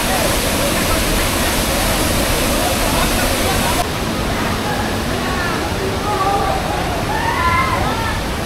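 A small, swift mountain stream near Rishikesh in Uttarakhand rushes in a steady, dense wash of water noise, with thin chirping calls rising over it in the second half.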